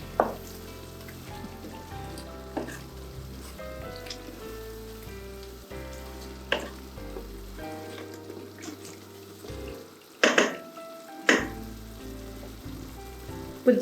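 Paneer biryani mixture with mint and coriander sizzles in a pan while being stirred, a steady soft frying hiss broken by scraping strokes and a couple of sharper clatters near the end.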